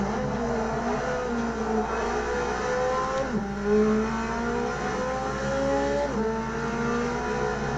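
Modded car engine in the Automobilista 2 racing game, revving and climbing through the gears in steady sweeps with brief drops at shifts, loud and continuous with no voices.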